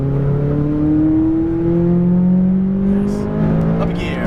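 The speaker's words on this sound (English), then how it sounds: "Pass them on the left, full throttle." A McLaren 570S under full throttle on the Las Vegas Speedway, its engine note rising steadily as it accelerates, loud and close, with a brief shift-like break near the end.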